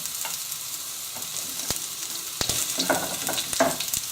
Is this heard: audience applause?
no